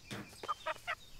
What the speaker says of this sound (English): Get out of that bush, you stupid chicken.